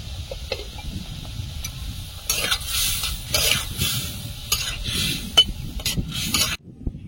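Dal and mango simmer in a pot while being stirred, giving steady scraping strokes over a soft bubbling hiss, close and alone with no voices.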